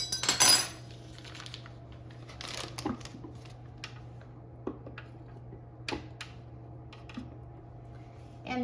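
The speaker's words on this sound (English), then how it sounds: "I'm going to just cut it into several pieces and put it and add to the food processor." A knife slicing a stick of butter into pieces on a board, giving sparse, quiet taps and clicks spaced a second or so apart in a still kitchen.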